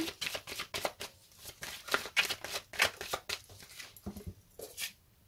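Tarot cards shuffled and drawn for a reading, a steady run of quick papery riffles and slaps, close and soft, with no talk over them.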